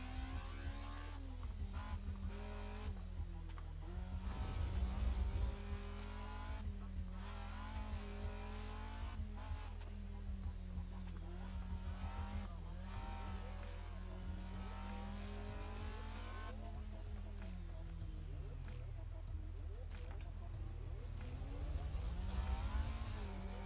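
A Honda FD6 engine in the Assetto Corsa driving game roars along a mountain road. It revs up and down repeatedly with rising and falling VTEC-style wails through shifts, steady, loud and close, with no talking.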